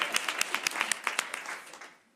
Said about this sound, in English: Could everyone get a round of applause to Delegate Marvin Holmes?